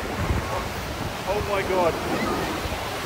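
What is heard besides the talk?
roaring 250 foot waterfall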